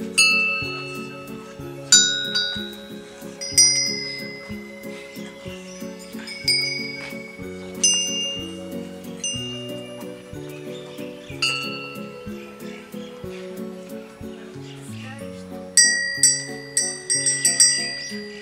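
Small bells from a guest-house bell collection ring in a steady series of bright, clear strikes, each note decaying slowly over layered lower chiming tones, close and with no voices.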